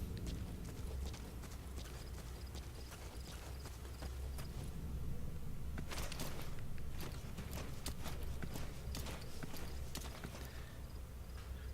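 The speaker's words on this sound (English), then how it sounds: "I just rode my horse through there" Steady horse hoof clip-clops at a walking pace in Metal Gear Solid V: The Phantom Pain, clear and close, repeating rhythmically over a low ambient hum with no talking.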